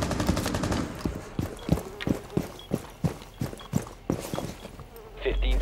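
Repeated shotgun blasts in Rainbow Six Siege, a rapid string of sharp, evenly spaced shots with hard transients, loud and close, ending with a burst of broadband noise.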